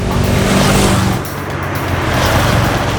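A car engine revs close and loud as the car is driven off, with a continuous rushing roar that eases slightly toward the end.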